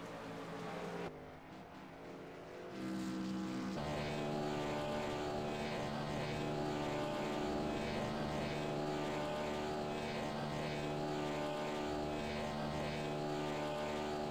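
A race car doing a burnout after a 125-lap race at Rockingham, its engine roaring loud and sustained at steady high revs, swelling after a brief dip near the start.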